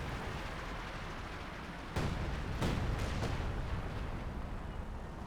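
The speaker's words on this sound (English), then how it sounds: "Does actually call in some artillery." Artillery barrage in Company of Heroes 2, heard as three sharp muffled impacts in quick succession over a dull rumbling battlefield background.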